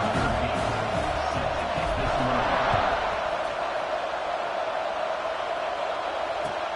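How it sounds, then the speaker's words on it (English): A stadium crowd in a football video game roars steadily at kickoff, a dense, sustained wash of cheering and noise that holds level throughout without any clear speech. "They're set to kick it off, and this crowd now ready to get behind them."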